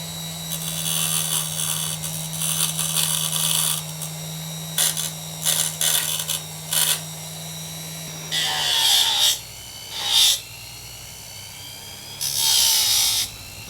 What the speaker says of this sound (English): So what I'll try and do is I'll try and true this up using the grinder.